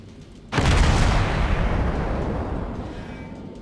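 A single heavy naval gun salvo from the cruiser Omaha in World of Warships booms out suddenly, then rolls into a long, loud rumbling decay that slowly fades over several seconds.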